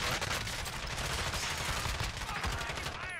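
Gunfire in Call of Duty Warzone comes as dense, loud bursts of rapid shots that fill the whole clip with continuous crackling noise, with no talking over it.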